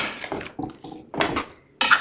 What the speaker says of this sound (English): we're going to give it a good stir to make sure everything is coated